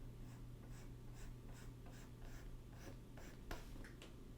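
Pencil drawing on paper while sketching Eevee's ear, a steady series of soft scratchy strokes at an even rhythm, close and quiet, over a low background hum.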